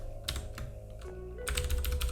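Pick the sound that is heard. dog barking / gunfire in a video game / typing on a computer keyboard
typing on a computer keyboard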